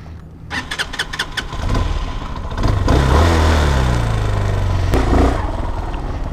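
A Honda supermoto motorcycle engine cranks with a few quick starter pulses, catches and settles into a steady idle, then revs up briefly before easing back, loud and close with no talking.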